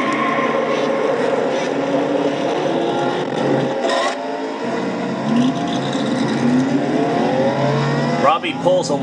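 Engine of a Shell Pennzoil Dodge stock race car heard from its roof camera during an oval race, a loud continuous drone with rising pitch sweeps as it accelerates after a crash, other cars roaring nearby.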